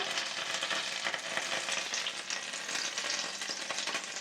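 Steady, dense sizzling and crackling of butter frying in a hot pan, with constant fine spitting pops throughout as water in the butter spits.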